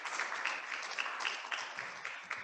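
A modest crowd at a general assembly claps after a presentation, a fairly quiet, uneven patter of hands with a few sharper individual claps standing out.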